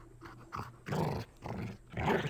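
A dog in the video game Rosewater growls in low, throaty bursts, rising and falling in several close rumbling pulses separated by short pauses.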